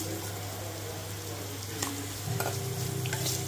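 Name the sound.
radish sautéing in a pan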